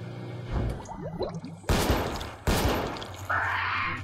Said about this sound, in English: Shooting him with tranquilizers and the guy just goes, have a burger.